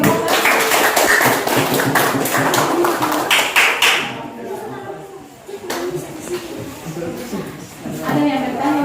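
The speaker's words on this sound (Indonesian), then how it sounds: "Ya, tepuk tangan untuk kelompok." A class group in an Indonesian Christian religious education teaching session gets a few seconds of quick, close hand clapping, which then gives way to people talking.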